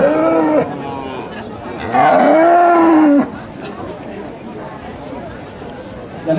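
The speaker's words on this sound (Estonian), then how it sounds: "Nii et Roosi kohta võib öelda küll, et tõeline piimamasin." Estonian Holstein dairy cow at a livestock show, lowing twice: a short moo near the start and a longer, louder rising-and-falling moo in the middle, with a faint third call at the end over low crowd chatter.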